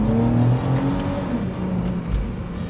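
A Ford FG X Falcon XR6 with a ZF 6HP automatic accelerates hard, its engine droning loudly as it climbs and a quick gearshift briefly drops the pitch before it pulls again, heard close with no talking.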